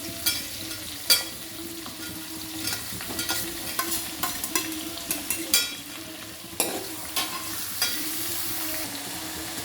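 Cucumber pieces go into a pot of simmering sambar and get stirred, with ladle scrapes and knocks over a steady low sizzle.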